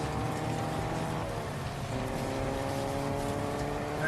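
In Fortnite, a vehicle speeds along with a steady droning engine hum that holds a constant pitch beneath a faint rushing background, fairly quiet throughout.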